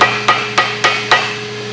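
Four sharp metallic taps spaced evenly, close and loud, as a barbed tool end is struck through a gasket to punch holes, with no voices.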